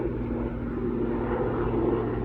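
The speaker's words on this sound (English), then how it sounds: "it looks like the big chopper is finally taken off" A large helicopter takes off out of sight behind trees, heard as a steady low, rumbling engine drone that carries on evenly at a moderate distance, with no speech.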